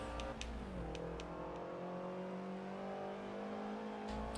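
A Mazda RX-8 engine in a racing video game, a steady high-pitched drone with rising and falling pitch as it revs, moderately faint and continuous, with small clicks over it.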